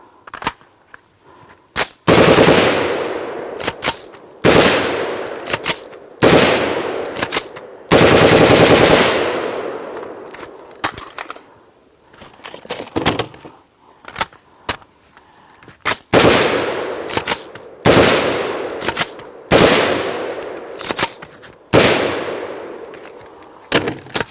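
A POF-USA rifle fires rapid bursts during an endurance crash test, with loud, close, sharp shots in long strings and short groups separated by brief pauses over nearly half a minute.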